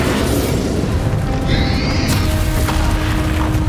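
In the video game Hogwarts Legacy, an explosive spell such as Bombarda or Confringo goes off as a loud, dense blast and rumble with a brief rising magical whoosh, set in a constant roar of combat.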